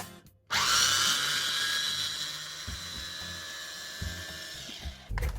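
A food processor grinds ingredients for a spinach cake, kicking in abruptly with a loud, high motor whine that holds steady and slowly eases for several seconds before cutting off near the end.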